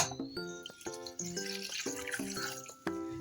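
About half a cup of water poured into a pan of 400 grams of jaggery, a close, steady splashing pour lasting a few seconds with no talking.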